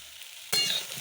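Potatoes, carrots and soybean chunks with turmeric, cooked for a moong dal khichuri, fry in a pan: a short soft hiss, then a sudden loud burst of sizzle as they are stirred.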